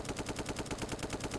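Rapid minigun fire from a pickup truck in a Lego City video game, a fast, even stream of loud mechanical shots that stays dense and steady with no talk.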